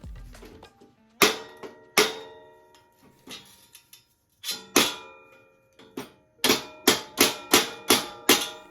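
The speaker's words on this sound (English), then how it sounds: "I would not damage it while I pounded away with a hammer." Sharp metallic hammer blows on a Fuji 10-speed bicycle's crank pin strike in irregular bursts, sparse at first, then a fast run of evenly spaced hits near the end, close and loud.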